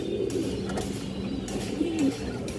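A Sabchila (Safchila) male pigeon, a large old-line bird, coos in low rolling phrases that run steadily throughout, with a few brief higher chirps and rustles nearby and no talking.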